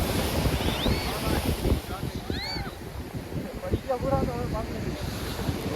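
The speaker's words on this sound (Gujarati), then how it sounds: "કિનારે ઉભો છું ને પવન આવ્યો" Wind and sea waves on the Porbandar shore, a broad rushing roar with microphone buffeting, close and loud, while voices talk over it.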